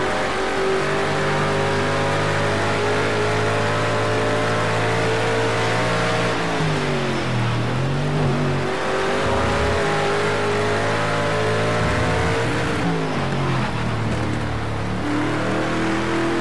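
A Mustang GT4 race car engine in the Project Cars 2 video game roars steadily at high revs, dropping briefly with gear shifts and dips before climbing again, loud and continuous with no talk.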